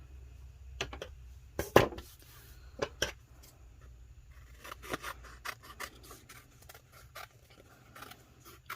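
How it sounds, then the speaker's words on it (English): Scissors snip and trim a vinyl decal in short, crisp cuts, a few isolated at first and then a quicker flurry of close snips, with no talking. "Trimming my decal down."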